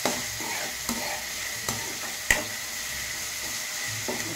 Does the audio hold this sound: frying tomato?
yes